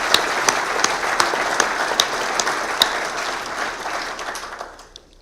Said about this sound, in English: Big round of applause for our major champions.